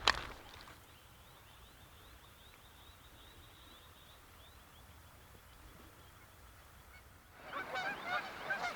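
A flock of geese on a lake island at dusk, faint distant honking calls repeating in a loose series over quiet outdoor ambience, with closer rustling and handling noise at the start and end.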